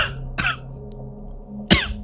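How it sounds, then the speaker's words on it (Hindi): A light cough from a man standing outdoors under a tree, heard as two short separate coughs, the second slightly stronger, close by with no talking. "तभी मुझे हल्की सी खांसी आई।"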